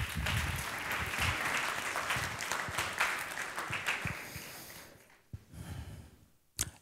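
Audience applause at a regional science-communication competition final in Trieste, a sustained wash of clapping that thins out and fades near the end, with some close breathing and rustle.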